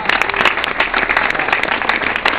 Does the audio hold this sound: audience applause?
yes